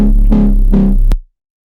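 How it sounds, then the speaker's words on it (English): A loud, dense electronic music track pushed through a saturator, its thick low end and gritty midrange pulsing in steady swells before the sound cuts off abruptly into silence. "Now we have a saturator, which is boosting the sound a decent amount"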